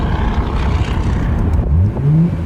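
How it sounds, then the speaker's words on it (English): A Nissan GT-R R33 with its RB26 engine revving on the road under a bridge: loud, close engine roar with a couple of quick rising revs, heard alone without talk. "give her a couple of quick revs and just see what this RB26 sounds like"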